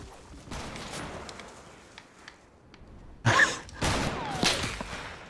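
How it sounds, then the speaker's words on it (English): Two sharp gunfire bursts ring out close and loud in Fortnite one shot mode, after a few seconds of quieter game ambience. "Who taking shots at me?"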